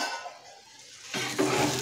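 A lid lifted off a pan of spring onion sabzi: a quiet lull, then a sudden metallic clatter and scrape followed by a brighter sizzle from the uncovered vegetables, close and fairly loud.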